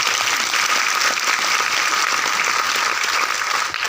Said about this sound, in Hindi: तो एक बार जोरदार तालियां आप लीजिए